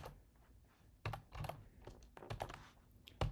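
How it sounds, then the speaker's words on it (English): Keys clatter on a computer keyboard as Java code is typed in, a fast irregular run of close, crisp clicks with a few louder clacks near the end and no talking. "Make sure you type them right."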